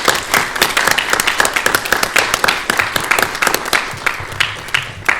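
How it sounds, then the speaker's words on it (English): Sustained audience applause at a horror film screening Q&A fills the whole stretch, dense overlapping claps that stay loud and steady without any talk over them. "So I just want to make a round of applause to him if we can."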